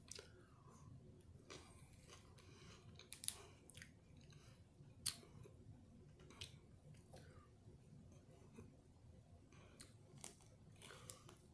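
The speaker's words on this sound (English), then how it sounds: "The lettuce is crunchy, but the shell is soft." Soft, moist chewing of a Taco Bell taco with crunchy lettuce in a soft shell, close and quiet, with scattered crisp crunches and squishy bites spread unevenly through the stretch, no talking.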